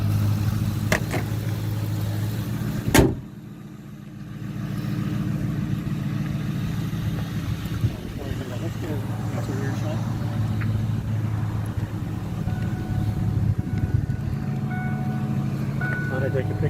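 A 1998 Ford Mustang GT convertible runs with a steady low engine rumble near the mic, cut by a sharp clunk early on, while a person talks over it.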